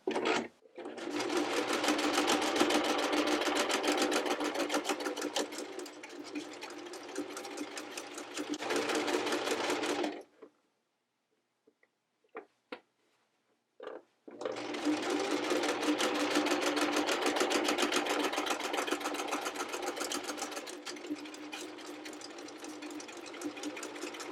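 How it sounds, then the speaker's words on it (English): Sewing machine stitching a half-inch seam on jeans panels for bell bottoms, a steady close whirring run of about ten seconds, a brief pause with a few clicks, then another long continuous run. "backstitch and sew forward a 1/2 inch seam"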